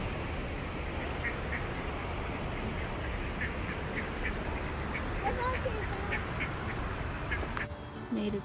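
Ducks at a park quack repeatedly in a busy, overlapping chatter under constant outdoor rustle, with a voice talking partway through.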